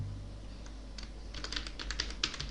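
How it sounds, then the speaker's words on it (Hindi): Keys clatter on a computer keyboard as text goes into a table in Microsoft Word, a faint burst of quick, irregular taps that grows denser in the second half over a low hum. "तो यहाँ पर देखिए हमने लिखा राम"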